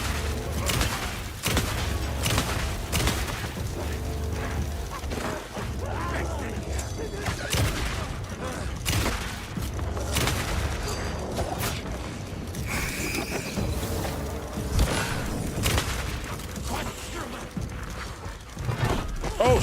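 Repeated shotgun blasts ring out in Alan Wake 2 amid thumps and clanking mechanisms, with a voice talking over the busy, loud combat.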